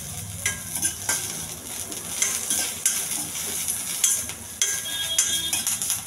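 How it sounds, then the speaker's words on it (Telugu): Green chilies and curry leaves fry in hot oil for a chickpea tempering, giving a steady sizzle with bursts of crackling and repeated metal-spoon scrapes and clinks against the pan, close by, with no talking. "కొంచెం పచ్చిమిర్చి, కరివేపాకు, కొంచెం దోరగా వేగించాలి."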